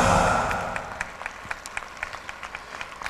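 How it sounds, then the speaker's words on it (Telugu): A congregation at a gospel prayer meeting applauds in a full burst of clapping that quickly thins into scattered, rhythmic claps, heard from within the crowd. "గట్టిగా చప్పట్లు కూడా ఆయనకి స్తోత్రం చెల్లిద్దాం ఒకసారి"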